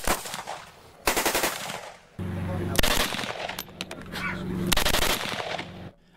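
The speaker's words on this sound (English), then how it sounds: "including one non-commercial, non-civilian, post-dealer machine gun" A post-dealer machine gun fires on a police range in loud repeated bursts and rapid strings of shots, broken by short pauses.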